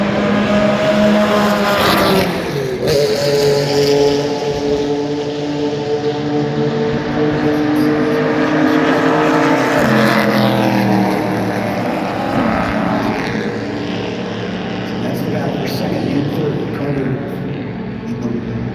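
Race cars, including a Porsche, lapping a track at an SVRA vintage race, their engines droning and rising in pitch as they pass, while a commentator talks over the loud, continuous roar.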